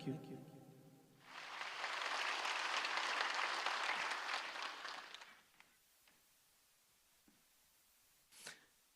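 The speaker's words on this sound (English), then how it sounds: "that deserves a bigger round of applause" An audience at a ceremony applauds after a sung worship song, a sustained round of clapping that swells, holds for several seconds and fades into quiet with a few stray sounds.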